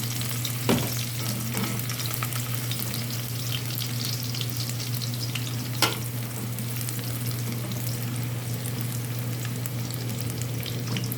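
Garlic sizzles steadily in hot oil in a pan for chicken adobo, a constant close frying hiss broken by a couple of brief utensil knocks.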